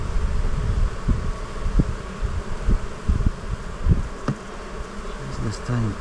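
Honeybees drone steadily at an opened hive packed with bees during a brief warm spell, a dense, continuous buzz close by with a few louder individual bees flying past.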